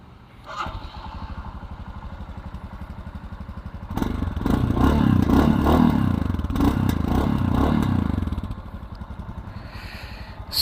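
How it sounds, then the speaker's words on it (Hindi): Royal Enfield Scram 440 motorcycle idling with a thumpy, bassy single-cylinder exhaust note, then revved louder for several seconds before settling back to a steady idle, close and clear. "सो एग्जॉस्ट नोट तो पहले जैसे ही है, बट अभी थोड़ा और थम्पी और बेसी साउंड कर रहा है"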